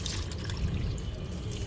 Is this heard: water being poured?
yes